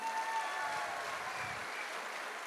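Audience applause at a WPL business platform event, a steady wash of clapping that holds evenly for a few seconds without talk.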